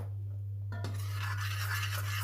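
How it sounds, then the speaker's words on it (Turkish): Stirring flour into boiling butter in a pot, a close continuous scraping and sizzling texture that starts abruptly and carries on over a steady low hum. "unun kokusu çıkana kadar karıştıracağım"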